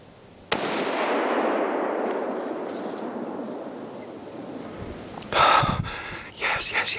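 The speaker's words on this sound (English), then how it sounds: "Smoke King dropped you with the 30-06." A single loud .30-06 rifle shot cracks at the start of a Kentucky deer hunt, its long echo rolling away over several seconds before a hunter's excited voice and breathing come in near the end.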